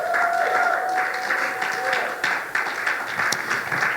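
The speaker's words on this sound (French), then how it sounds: "Est-ce qu'on peut donner une bonne acclamation au Seigneur parce qu'il la mérite?" Church congregation applauds and cheers for the Lord, clapping mixed with voices shouting and whooping, some sustained calls rising over the crowd noise.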